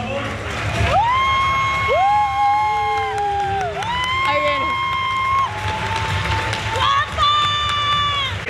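A crowd at the Velada del Año 4 boxing event presentation cheers and shouts loudly. Excited voices whoop and yell over a constant roar of noise.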